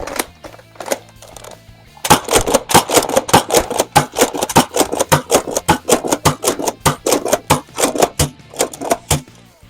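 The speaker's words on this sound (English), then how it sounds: "Now for just jokes, firing some elite darts." An Air Warriors Thermal Hunter toy blaster fires Elite foam darts in a long rapid burst of sharp mechanical clacks with an underlying motor whir, loud and close, after a few slower shots at the start.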